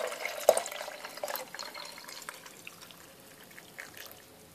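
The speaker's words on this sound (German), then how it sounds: "Und jetzt gießt ihr noch frisches Leitungswasser oben drauf." Fresh tap water poured from above into a container holding a drink, about one litre in all: a close splash at first, then a trickling, bubbling pour that fades out gradually, with no voices.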